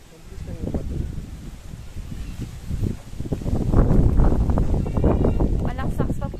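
Strong wind gusting and rain in Batanes, a steady roar of rushing air that swells midway, heard under nearby voices talking.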